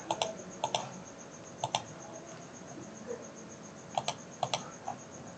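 Computer mouse clicks in Revit 2023 while modelling roof and columns for a hotel design, small sharp clicks coming in quick pairs and triples separated by pauses, close and quiet against a faint steady hiss.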